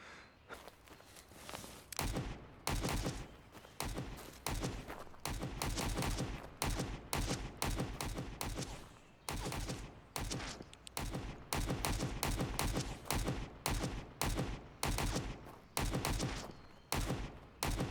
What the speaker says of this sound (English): I love the sound of the suppressed gun